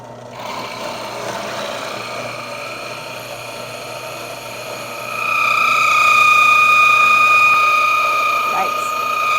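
A drill bit grinds a hole into glass, a steady whining motor with a rising high-pitched squeal as the bit bites in, loud and continuous at close range.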